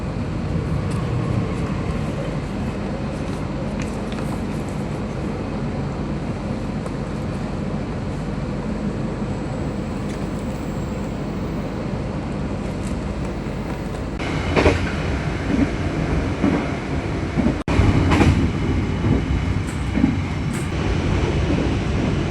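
The Argo Wilis passenger train runs past a station in Indonesia as a long, loud rumble of rail noise, swelling with clattering wheel and car sounds in the later part.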